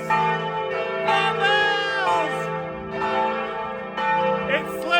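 Church bells ringing up in a Vilnius bell tower, loud and close, with overlapping rich tolls sustaining and decaying in a repeating pattern, heard alone.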